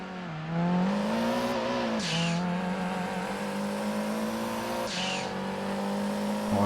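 Racing car engines roar in a video game with a Japanese build, a loud steady drone with upshifts and gear changes around two and five seconds, no voices over it.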